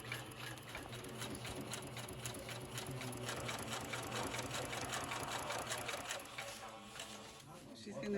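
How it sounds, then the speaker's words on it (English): A sewing machine runs steadily, stitching down the side seam of a horse show shirt sleeve in one continuous fast whirr at moderate distance, with a voice talking faintly in the background. "So she's sewing down the side."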